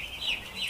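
Broiler chickens on a small poultry farm of about a thousand birds give soft, brief clucks in a short burst, fairly close and without talk.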